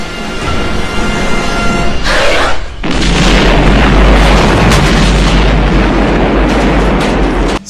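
A grenade explosion in the film Aliens: a brief bright burst, then a huge sustained roaring blast with deep rumble that fills the scene at high volume for several seconds.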